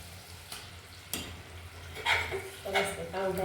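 Masala tipped into boiled vegetables for pav bhaji, sizzling and being stirred in a pan, with scraping strokes and bursts of frying noise rising over a steady low background.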